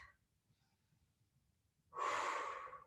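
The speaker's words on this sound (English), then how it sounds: "Breathing in through the nose, out through the mouth." Breathing during a Pilates workout: a quiet pause, then one long audible exhale through the mouth, close and breathy, lasting about a second.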